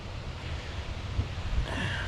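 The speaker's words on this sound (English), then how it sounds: "It's kind of windy today" Steady wind buffeting a microphone outdoors, a low rumbling roar with a few stronger gusts, no voices.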